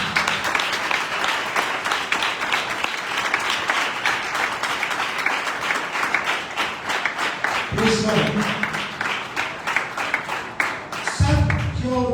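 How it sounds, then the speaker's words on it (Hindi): Loud, sustained applause from a church congregation clapping for Jesus during a worship service, with dense rapid claps that swell near the end while a voice speaks over them. "मैं यीशु के लिए जोरदार ताली देता हूं।"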